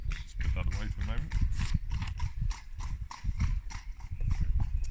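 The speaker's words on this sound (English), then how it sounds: "interested in the horse that's just gone past" Horse walking past outdoors by woodland, hooves clip-clopping in a steady rhythm that stays close and fairly loud throughout, with a person talking over it.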